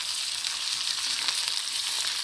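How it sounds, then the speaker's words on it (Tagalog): Onions frying in a pan, a steady, close hiss of sizzling oil that holds at an even level throughout, with no talking over it. "Iprito ko muna yung sibuyas"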